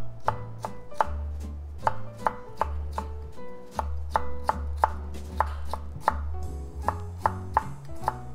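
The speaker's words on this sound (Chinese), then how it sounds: "已经给它切片切好了，切片切好了，然后给它切成丝" A knife chops carrot into thin julienne strips on a cutting board for Korean japchae, a steady run of crisp, close knocks at an even rhythm with no talking.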